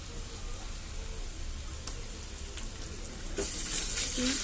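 A spoonful of ginger garlic paste fries with browned onions in a pan, a soft steady sizzle with occasional faint clinks that swells into a louder hiss near the end.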